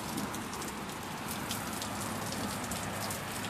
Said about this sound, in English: Okay, let's look at the rain.